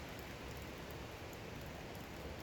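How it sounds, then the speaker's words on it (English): Rain falls outdoors in Michigan as a faint, even, unbroken hiss with no other sounds. "Welcome to rainy Michigan. It is such a relief to have rain."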